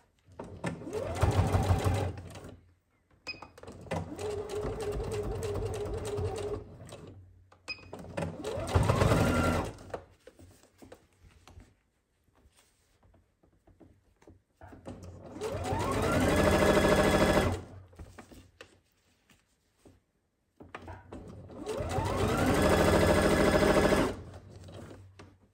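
A sewing machine sews a zip into a jacket in five separate bursts of running stitches, each lasting a couple of seconds, with quiet pauses between them, fairly close by.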